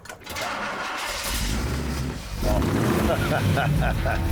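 A classic car engine cranks and catches, then settles into a deep, loud rumbling idle close by.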